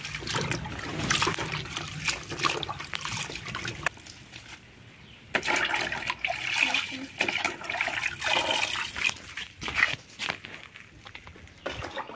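Dusty saag greens are swished and rinsed in water by hand, with steady trickling, splashing and sloshing close by, broken by a short quieter pause, and a voice speaks faintly now and then.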